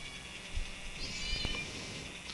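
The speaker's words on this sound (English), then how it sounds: "my cat seems to have joined me" Domestic cat meowing indoors, a faint, drawn-out meow rising above a steady hum of room noise, with no one talking.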